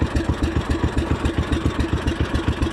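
A fishing boat's engine idles in a steady, loud, low chugging rhythm of rapid even pulses that runs unbroken throughout, with no one talking.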